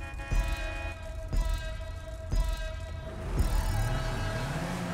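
A car horn in the video game GTA V blares in a sustained tone broken by several sharp repeated honks, loud and close, with no talking.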